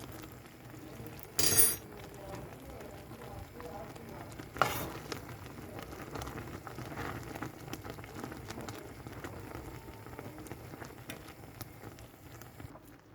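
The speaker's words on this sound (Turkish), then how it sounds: "Böyle kaynıyor." Thick plum jam bubbles and simmers in a pot with a soft, continuous popping hiss, and a couple of brief louder clatters cut through.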